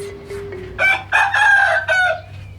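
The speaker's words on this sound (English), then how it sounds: "and the chickens here as well" A rooster crows loudly and close by in a drawn-out, broken call, after a few softer clucks, in Cambodia.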